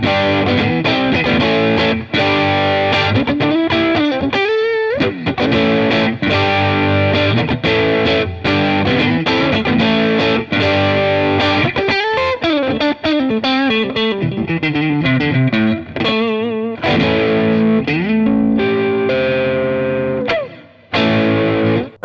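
An electric guitar played through a Tate FX Antares overdrive pedal, with crunchy distorted chords and riffs ringing out continuously and loud.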